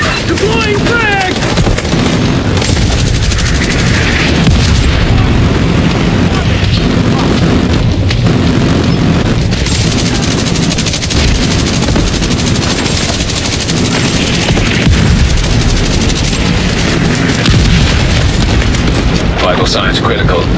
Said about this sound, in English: Deploying frag!